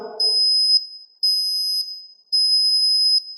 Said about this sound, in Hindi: तो ये बजर बज जा रहा है।